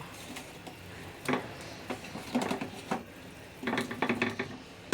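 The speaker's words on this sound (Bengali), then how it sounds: "বেজে রাখা আলুগুলো দিয়ে দিছি এবার আমি কষাবো আমার আলুর দমটা" Fried potatoes tipped into a pan for aloo dum, with scattered clinks and scrapes of a utensil against the pan in short bursts, fairly quiet.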